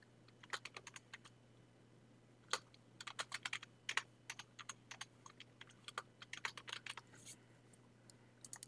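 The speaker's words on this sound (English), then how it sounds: "and start typing." Keys clatter on a computer keyboard in quick irregular bursts of close, crisp clicks with short pauses between runs, over a faint steady hum and no voices.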